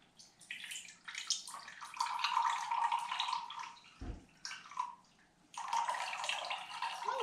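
Liquid from cooked spaghetti squash salad ingredients drains into a measuring cup in a home kitchen, a steady splashing trickle that runs for several seconds, pauses briefly with a low thump, then resumes.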